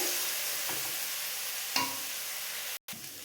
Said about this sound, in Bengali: দেখো চাপা দিয়ে দিয়ে জোর কমিয়ে ভাজবো, তবে আলুটা নরম হয়ে যাবে।